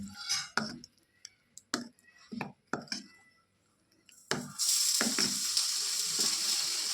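Hot tempering for a chutney hits the dish with a sudden loud sizzle that keeps hissing steadily. Several sharp clinks and taps of utensils come just before it.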